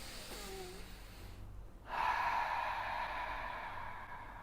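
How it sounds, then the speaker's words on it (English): A single deep breath is drawn in audibly, a soft quiet inhale followed by a longer, steadier airy exhale, close to the microphone in an otherwise still room. "Take a deep breath."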